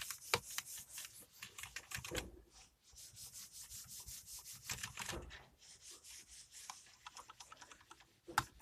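A computer mouse sliding back and forth on an HP mouse pad, producing dry rubbing and scraping strokes in quick irregular bursts with brief pauses, close and quiet.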